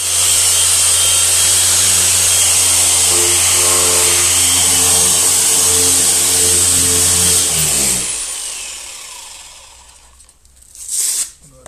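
A disc sander grinds steadily and loudly across a mower body for several seconds, then winds down and falls quiet, followed by a short scuffing sound.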